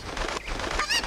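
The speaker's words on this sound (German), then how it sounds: "jetzt sind hier überall in dieser Stadt Hühner" Chickens in Kakariko village in the game Zelda: Ocarina of Time, a quick burst of loud, close, squawking clucks and honk-like calls, ending in a rising shrill cackle.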